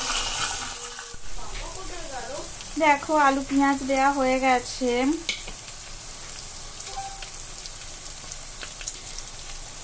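Fish head frying in a pan with potato and onion, a steady soft sizzle running throughout, with someone speaking for a couple of seconds over it and a few light clinks of a spatula.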